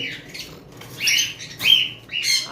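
Pet cockatiels in a cage, including a dot pied lutino male, let out a few sharp, bright chirps and squawks close by in short bursts, with brief wing flutters between them.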